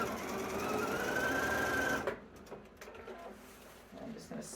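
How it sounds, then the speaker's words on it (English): A sewing machine quilting fabric hums steadily at close range for about two seconds, then stops, leaving faint handling noises. "This is one thing I like about quilting on the sewing machine"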